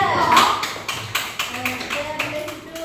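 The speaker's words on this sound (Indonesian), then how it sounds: "Tepuk tangan untuk kelompok dua" A few people clap scattered, uneven hands for a group in a classroom teacher-training session, with sparse sharp claps heard under a speaking voice.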